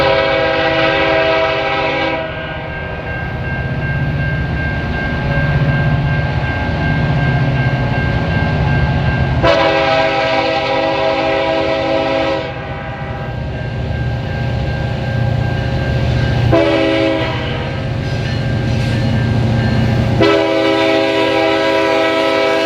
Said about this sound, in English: Yet another southbound train rolling out of Fond du Lac, this time with two SD70M-2s and a CIT GP38-3 in the lead.